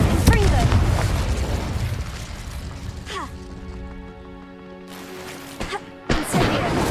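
Incendio fire spell blasts in a video game: loud, roaring fiery bursts and booms, with a sustained tonal magical hum between them and sharp impacts near the end.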